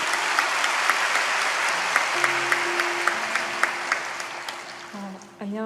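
Church congregation applauding before a baptism testimony, a dense wash of clapping with a few sharper individual claps, easing slightly before a voice begins to speak near the end.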